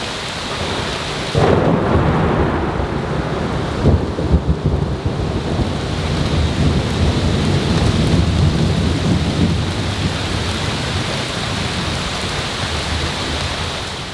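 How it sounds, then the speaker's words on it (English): Heavy rain from a nighttime thunderstorm pours steadily as a loud crack of thunder breaks in early, followed by rolling rumbles beneath the constant downpour. "it's 10 o'clock at night now, and we're definitely getting the rain."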